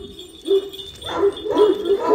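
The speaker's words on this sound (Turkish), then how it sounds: "Bakın bu da Anadolu çoban köpeği Rüzgar." A big Anatolian shepherd dog barks close by, four short, deep barks with yelping edges, one after another over a couple of seconds.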